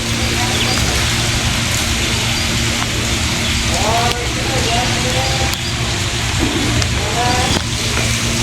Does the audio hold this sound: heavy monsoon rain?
yes